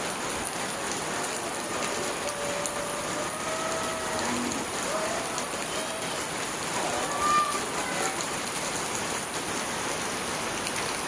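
Steady pre-monsoon rain falls in the Konkan countryside in May, a soft, even patter of drops on surfaces continuing throughout.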